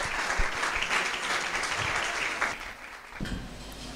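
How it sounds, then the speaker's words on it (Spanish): Audience applause welcoming a speaker at a talk, a continuous moderate wash of clapping from a crowd that thins slightly toward the end. "Lo recibimos con un fuerte aplauso."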